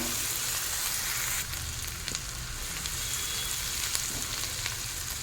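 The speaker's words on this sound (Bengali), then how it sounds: "এবার এখন দিয়ে দেবো থেতো করা আদা রসুন। আদা রসুনটাও পেঁয়াজের সঙ্গে ভেজে নেব।" Crushed ginger and garlic fry with grated onion in hot oil, giving a steady, close sizzle with a few brief stirring clatters.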